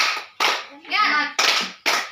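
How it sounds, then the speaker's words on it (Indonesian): Schoolchildren in a fifth-grade classroom do a rhythmic spirit clap together, sharp bursts of group clapping in a pattern broken by a short chanted word from the kids. "Semuanya tepuk semangat."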